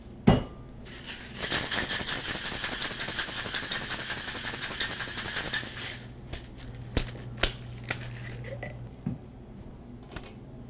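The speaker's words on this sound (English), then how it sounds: "We'll shake this over ice." A cocktail shaker with ice being shaken hard for several seconds, producing a dense, continuous rattle of ice against metal. It stops and is followed by a few scattered clinks and knocks of glassware, close by, with no talk.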